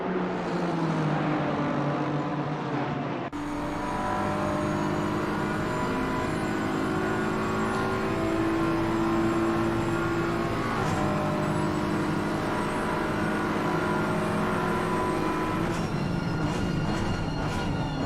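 Race cars lapping Monza in Assetto Corsa Competizione, a BMW among them, their engines droning and shifting pitch continuously and loudly, with layered revving tones overlapping throughout and no talk.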